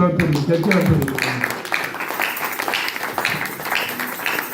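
A church congregation applauding loudly, a dense wash of clapping that carries steadily through the whole moment while a voice talks over it.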